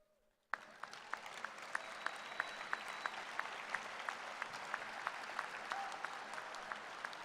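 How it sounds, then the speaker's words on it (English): Graduates at a spring university commencement for business administration stand and applaud faculty and staff, a steady broad wash of clapping from a large crowd that starts abruptly after near silence and holds throughout, with faint whistles cutting through. "I ask you, the graduates, to please stand and applaud their contributions to your success."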